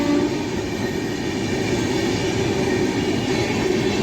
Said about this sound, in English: Another express train is skipping Sanath Nagar.